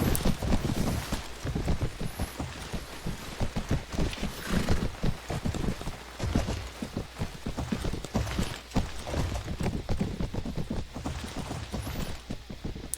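Many horses charge in the Mount & Blade Warband video game, a steady, dense clatter of hooves with occasional whinnies under faint wind, continuous for the whole stretch.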